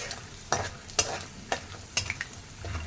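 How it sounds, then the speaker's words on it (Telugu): Peanuts and other poha mixture ingredients fry in hot oil while being stirred, a gentle sizzle punctuated by roughly regular scraping strokes about every half second, close and fairly quiet. "అలా నూనెలో వేయించాలి, ఎర్రగా వేయించచ్చు."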